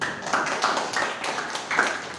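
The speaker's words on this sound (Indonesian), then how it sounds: "Silakan kita berikan tepuk tangan untuk kelompok 2" Applause from a classroom group for student team 2 after their project presentation, a light patter of clapping hands that runs steadily and moderately loud with small swells.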